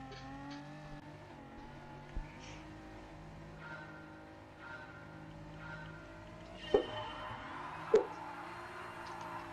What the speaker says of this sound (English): Lots of wheel spin there.